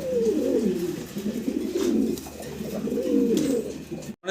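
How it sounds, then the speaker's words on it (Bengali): A pair of grizzle-coloured racer pigeons coos loudly and close by, with several long rolling calls in a steady rhythm that cut off abruptly at the end. "আফসান গ্রিজেল কালারের এক জোড়া রেসার কবুতর আপনারা দেখতে পারতেছেন"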